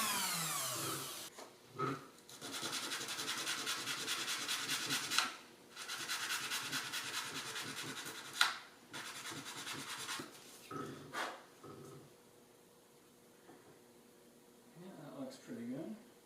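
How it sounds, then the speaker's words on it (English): Excess epoxy being shaved and filed off the back of a part during an electronic instrument cluster conversion on a 1976 Mazda RX-5, heard as bursts of close, dry rasping and scraping strokes separated by pauses, with faint speech at times. "Basically just going to shave off all the excess epoxy on the back"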